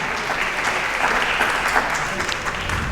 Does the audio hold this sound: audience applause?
yes